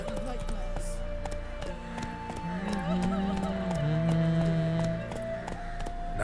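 Roach, the horse in The Witcher 3, with rapid rhythmic galloping hoofbeats under game music and someone talking over them.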